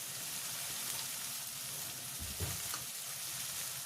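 Garam masala, chilli powder, turmeric and pepper powder are stirred into a frying pan for capsicum rice, with a soft continuous sizzle and a few low scraping stirs, quiet and without talk.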